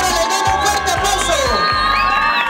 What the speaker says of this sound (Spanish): los niños de Zitácuaro le dan un fuerte aplauso.